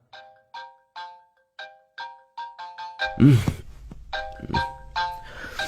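A phone ringtone rings on speakerphone, repeated melodic chime-like tones at a steady rhythm, then it is answered with a thump and the ringing continues under a louder clattering, close by.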